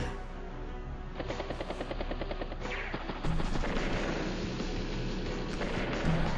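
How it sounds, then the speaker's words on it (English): A rocket unit fires in the strategy game Advance Wars: Days of Ruin: dense, rapid bursts of gunfire-like blasts roll on continuously for several seconds, loud and close, growing stronger partway through. "Rocket does take a shot there."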